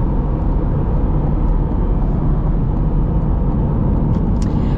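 A steady, loud engine drone from a 2023 Chevrolet Corvette Stingray holds throughout, a low continuous rumble as if from inside the moving car, with no clear revving.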